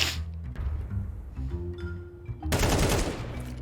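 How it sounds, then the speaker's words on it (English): Rapid gunfire from players running and shooting with MP5-SD rifles in a CS2 match, the suppressed bursts coming in choppy clusters. A sharper, louder barrage near the end overlays busy in-game action. "MP5 SD players. Running and shooting."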